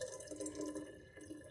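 Water runs steadily into a home kitchen sink in a short, continuous wash of flow, with no talking.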